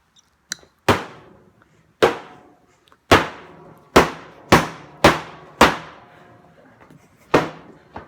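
Eight loud, sharp metallic bangs ring out as a water heater is struck, spaced irregularly about a second apart, each hit a hard crack with a brief decaying ring and near silence between blows.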